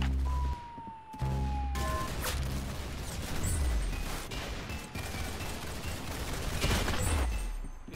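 Gunfire in the Roblox game Arsenal, with shots and mechanical clatter spread across a busy stretch of action, plus a few sharp louder bursts near the middle and end.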